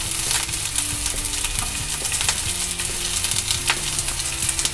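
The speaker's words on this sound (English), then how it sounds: "So we'll be adding onion to this." Diced onion and finely chopped garlic sizzle and crackle steadily in a hot pan for white sauce pasta, with occasional stirring scrapes and clicks, close and fairly loud with no talking.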